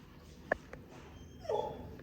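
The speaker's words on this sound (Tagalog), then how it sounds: "Ito ang aso namin." Pet dogs Tonton and Tyson give a faint, high whimpering yip, then a longer whine a second later, heard close in a quiet room.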